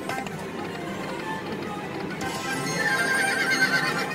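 Horse sounds from the Lightning Link Best Bet slot machine bonus: a whinny and clip-clop hooves over bright electronic game tones, loud and close.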